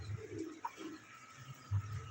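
A pet pigeon at home coos softly in low, rolling murmurs, close and fairly quiet, with a brief chirp-like note in between.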